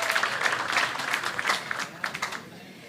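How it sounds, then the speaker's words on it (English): Conference attendees clap for a county's vote tally, a moderate burst of applause that fades into a few scattered claps. "Give them a clap."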